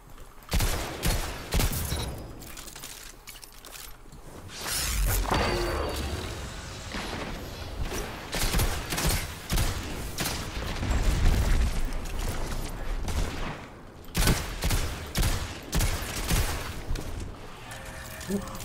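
Gunfire from the Destiny 2 video game in a solo Trials match on the Radiant Cliffs map, with dense repeated bursts and shots throughout, loud and close, mixed with other game effects.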